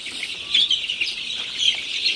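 Sonali super hybrid chicken chicks, about fifteen days old, chirp and peep continuously in a busy, overlapping chorus of thin, high calls at close range.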